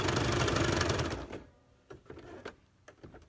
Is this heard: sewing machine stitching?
yes